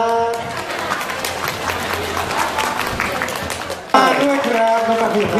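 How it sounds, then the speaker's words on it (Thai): An audience claps for a ten-year-old girl contestant at an Isuzu event in Phitsanulok, steady applause throughout that swells louder near the end, with a voice speaking over it. "ขอเสียงปรบมือกำลังใจให้กับน้องปรางครับ"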